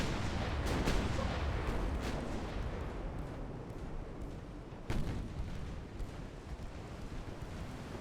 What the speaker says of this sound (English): Now play all your guns on the Argyle.